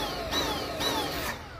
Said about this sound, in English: If you've got a Dyson cordless vacuum and it's making a pulsing sound like this